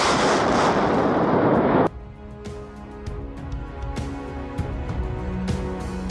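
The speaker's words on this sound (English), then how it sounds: "a high-explosive artillery shell explodes, blowing soldiers to the ground" A high-explosive artillery shell bursts near soldiers in a wartime combat zone: a loud, dense roaring blast fills the first two seconds, then cuts off into quieter rumble with scattered sharp cracks and distant bangs.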